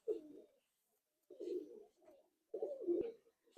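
A deep-eyed female pigeon, kept among Madrasi Giribaz and Malwai pigeons, coos close by in three soft, throaty bursts separated by short pauses.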